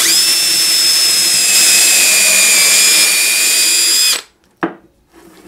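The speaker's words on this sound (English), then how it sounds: "in order to get the scroll saw blade in the middle there to cut out the middle part, in here, you're gonna have to drill a starter hole" A power drill bores a starter hole through a wooden Christmas ornament blank for a scroll saw cut, whining loudly and steadily for about four seconds, then cutting off, followed by a short knock and faint handling noise.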